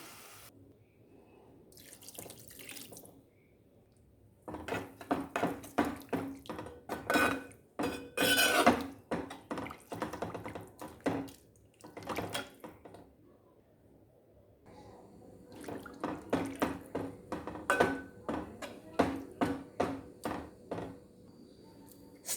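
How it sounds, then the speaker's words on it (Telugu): Water is poured into a pot of bitter gourd soup, giving bursts of splashing and clinking against the metal, with quiet pauses between two main spells of pouring. "నీళ్ళు వేసుకుంటున్నాను."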